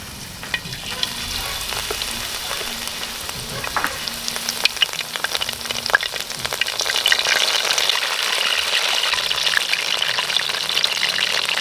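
Crablets coated in Coke batter fry in hot oil with a loud, continuous crackling sizzle that swells and grows busier toward the end, with no talking.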